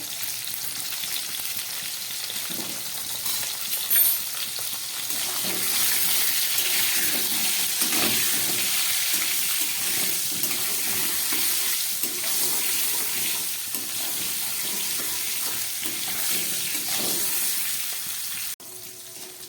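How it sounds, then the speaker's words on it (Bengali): Pointed gourd pieces deep-fry in hot oil with a dense, continuous hissing sizzle that stays loud and close throughout, with no one talking. "প্রায় 2-3 মিনিটের মতো পটলগুলোকে একদম ছাকা তেলে খুব সুন্দর করে ভেজে নিলাম।"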